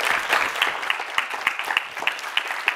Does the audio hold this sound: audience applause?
yes